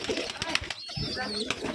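Pigeons, including biscuit-coloured and black jag birds, stir inside an indoor loft, with close cooing and bursts of flapping wings over a steady bustle.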